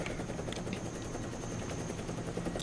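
Steady rotor drone of a 1960s-style Sky Ranger helicopter in the game XCOM: The Bureau, a continuous dense whir with faint rhythmic chopping that stays at even loudness throughout, with no voices.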